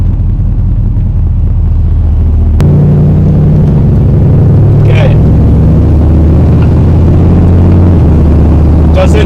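Classic car on a test drive, engine rumbling low and steady as it accelerates and turns, a continuous close drone with a sharp bump partway through.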